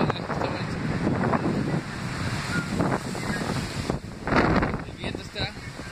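Morning wind buffets the microphone on an empty beach while waves wash in, a continuous rushing roar with several louder surges, one strongest gust-and-surf swell near the end.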